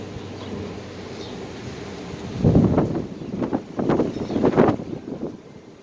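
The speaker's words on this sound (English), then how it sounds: "they're very curious about the amount of noise the wind's making" Heavy wind gusts buffet the microphone around a group of goats on a farm, a steady low roar that swells into stronger rumbling bursts in the second half, with no voices.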